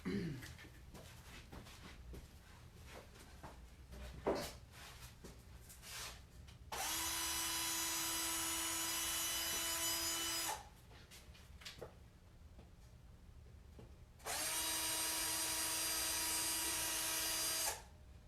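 Power screwdriver driving screws into a wooden Thanksgiving pilgrim wreath, with two sustained whirring bursts of several seconds each, separated by quieter handling noises and brief clatter, close and loud.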